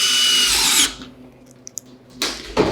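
A power drill drives a screw into round metal duct pipe wrapped in fiberglass duct wrap: a loud high whir for nearly a second, a pause with small clicks, then the drill starts again near the end.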